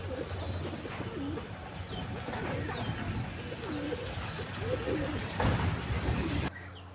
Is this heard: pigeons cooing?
yes